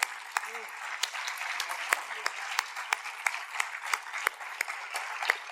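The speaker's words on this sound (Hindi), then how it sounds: "एक जोरदार तालियों के साथ" Applause from a concert audience at the Manik Swar Mahotsav, continuous mid-level clapping from a crowd with distinct sharp claps standing out and a brief voice near the start.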